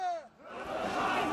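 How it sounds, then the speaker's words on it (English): A protest crowd in a Kiev square shouts and roars together, a dense, loud wash of many voices swelling after a brief dip, with a single voice trailing off at the start. "as the crowd called for a new revolution"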